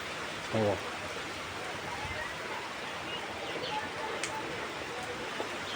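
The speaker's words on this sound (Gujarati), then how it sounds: "દેખ લો વરસાદ આવે છે જોવો વરસાદ બહુમાં બહુ આવે" Steady rain pours outdoors around a farmhouse, a dense even hiss that runs through the whole stretch, with a brief low thump or voice-like sound early on.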